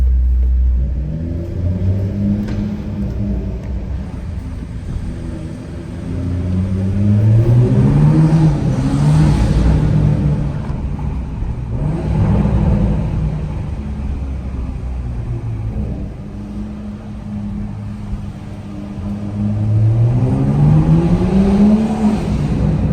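An MK5 Toyota Supra drives through a parking garage, its engine rumbling loud and close, rising and falling through several revving pulls with echo off concrete, with no talking.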